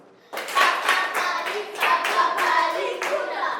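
A classroom of primary pupils claps for themselves during a French grammar lesson, a burst of many hands starting abruptly and continuing steadily at close range, with a voice faintly audible beneath the clapping.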